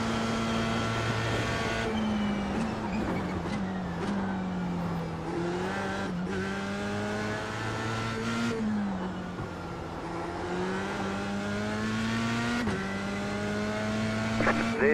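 Race car engine in the video game Assetto Corsa, revving steadily with rising and falling pitch through gear shifts, loud and continuous, with a voice talking over it at times.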